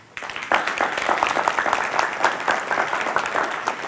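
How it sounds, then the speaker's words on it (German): Applause from a church audience at a Plautdietsch-speaking gathering breaks out after a quiet start and holds steady, a dense close wash of many hands clapping with no voices over it. "Gut, jetzt einen Applaus."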